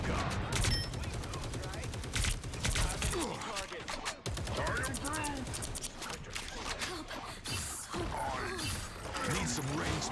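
Rapid bursts of gunfire from the video game NIKKE, dense repeated shots and fusillades running throughout, with a person talking over the action.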